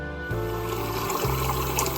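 Tur dal being rinsed in water before going into a pressure cooker, a steady splashing, trickling wash close by with a low continuous hum beneath, no speech.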